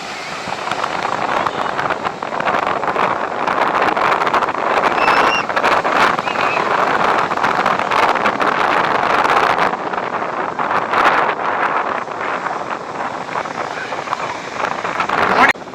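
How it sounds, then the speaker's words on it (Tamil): Strong wind buffets the microphone at a beach, with a continuous loud roar and rough waves mixed in, while people talk over it. "இங்கே வந்து காற்றும் பயங்கரமாக இருக்குது அலையும் பயங்கரமாக இருக்குது"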